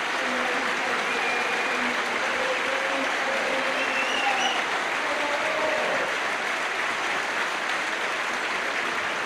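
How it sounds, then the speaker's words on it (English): A large stadium crowd at a Grimsby Town versus FC Halifax Town football match applauds a substituted player steadily, a dense wash of clapping with a faint murmur of voices mixed in. "Tremendous round of applause for him."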